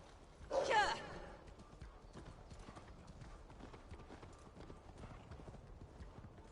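Horse hooves clip-clop in Assassin's Creed Valhalla, a brief loud burst of hoofbeats near the start that then settles into a low, steady trotting rhythm under faint background sound.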